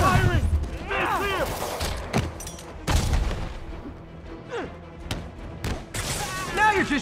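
Gunfire and impacts crack through a combat scene in Marvel's Spider-Man Remastered, with irregular bursts of shots and thuds mixed with swooping effects and shouted voices.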